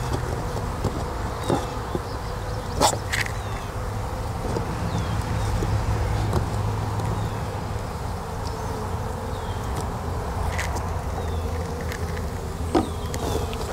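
Honey bees buzz around a hive box at a homestead, a steady close drone with individual bees zipping past the microphone every few seconds.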